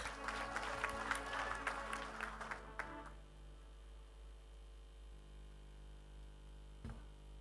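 Applause and cheering from the audience at the closing of a party congress in Bali, fairly faint and scattered, fading out after about three seconds into a low mains hum with a brief thump near the end.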